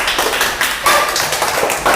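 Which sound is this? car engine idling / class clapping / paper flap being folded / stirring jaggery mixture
class clapping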